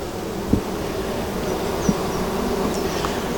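Honeybees buzzing around an open hive during queen work, a steady close drone with a few individual bees passing near, and no talking.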